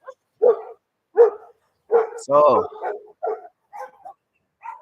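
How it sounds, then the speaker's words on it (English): Several pit bulls bark in short repeated bursts behind someone talking, the barks spaced about a second apart and fairly close, partly interleaved with his speech. "these dogs are many behind me. They are more than five, and they are pit bulls."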